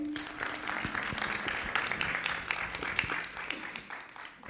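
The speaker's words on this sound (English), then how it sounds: "Let's give Angela a round of applause." Audience applause after a lunchtime lecture, a moderate patter of clapping in a hall with a low hum underneath, fading slightly toward the end.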